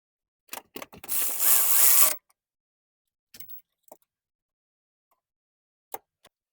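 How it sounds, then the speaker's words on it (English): A ratchet tightening a 12 mm nut on the alternator of a Nissan Frontier. A few quick clicks lead into a one-second burst of rapid ratcheting, followed by scattered isolated clicks and taps, close and otherwise quiet. "Now that we have connected that connection and screw on the 12 millimeter nut and tighten it"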